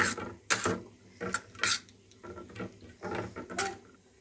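A utensil clinks and scrapes against a bowl while bread omelette batter with fenugreek leaves is mixed, in irregular bursts of rattling strokes that sound close by.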